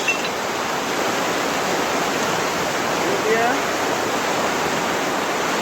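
A flooding river in Jamaica rushes under a bridge, a loud, steady roar of churning water that fills the whole stretch without letup, with a brief spoken word near the start.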